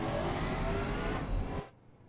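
A 1969 supercar engine revs hard and roars loudly up close on a track in the video game Automation, then cuts off abruptly near the end.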